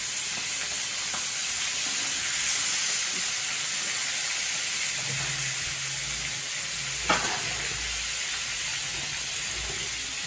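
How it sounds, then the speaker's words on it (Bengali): Katla fish frying in oil gives a loud, close, continuous sizzle and crackle, with a brief sharp pop partway through. "এই কাতলা মাছ ভাজা হয়ে গেছে"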